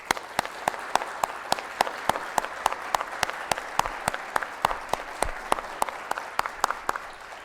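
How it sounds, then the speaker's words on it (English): Applause at the NASDAQ opening bell in Times Square, New York: a steady wash of crowd clapping with sharp, regular close claps standing out above it, moderately loud and sustained throughout. "So how about a round of applause to kick things off?"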